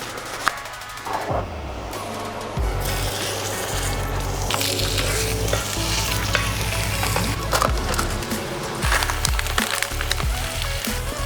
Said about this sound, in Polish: Na tą oliwę dodajemy w pierwszej kolejności cebulę.